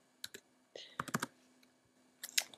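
Code is typed on a computer keyboard in quiet, close clusters of soft key clicks with brief gaps between them; no one speaks.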